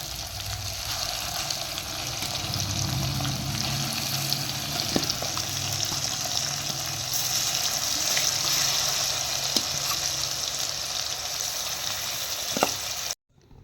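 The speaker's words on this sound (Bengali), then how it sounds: "এইভাবে বাকি মাংসগুলো আমি সব ভেজে নেব।" The remaining chicken pieces for a dhaba-style fry crackle in hot oil, a steady close-up sizzle with scattered pops and utensil clicks, ending abruptly.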